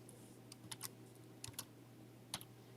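Typing a time entry on a computer keyboard into Kronos timekeeping software, a few quiet, scattered key clicks in short bursts over a steady low hum, with no talking.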